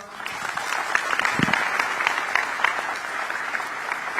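Audience applause at a Korean community dinner meeting in Singapore, close and steady clapping from a seated crowd that builds slightly and then holds at an even level.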